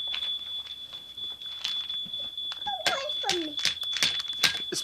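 A smoke detector chirping for low battery indoors, with a steady high electronic tone running throughout and a voice and other people talking over it.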